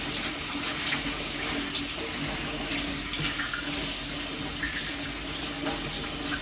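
Tap water runs steadily in a sink while a pineapple is rinsed under it, a continuous close splashing hiss throughout with no talking.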